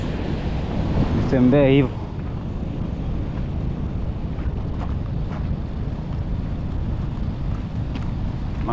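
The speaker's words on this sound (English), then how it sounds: "There's a waterfall over here." A waterfall on the Nairobi River roars with a steady, broadband rush of falling water close by. It carries on throughout, with a brief spoken phrase near the start.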